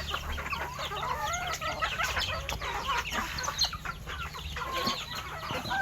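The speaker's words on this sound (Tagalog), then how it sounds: "O, damo kaig manok guys." Many chickens on a rural province farm, a dense chorus of clucks and squawks from several birds close by, with a rooster crowing among them, busy and continuous.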